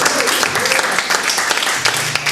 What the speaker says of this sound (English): Let's give Elise another big round of applause